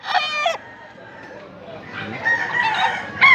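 A young rooster, not yet a year old, crows close by at the start, then a second crow swells toward the end over a background of other chickens clucking and distant poultry noise.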